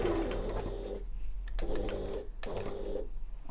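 A domestic sewing machine stitches through sling bag fabric in three short bursts of rapid, buzzing running, each about a second long, with brief quiet pauses between them, close and fairly loud, no voices.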